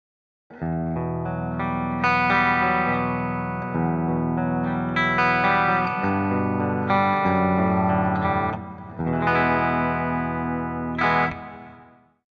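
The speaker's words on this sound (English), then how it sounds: "here's some simple chording through a Bassman-styled amp" Electric guitar, a B.C. Rich Ironbird Prophecy Mk II, strums chords through a clean, warm Bassman-style amp with a touch of chorus and reverb, sustained chords ringing out in a steady sequence.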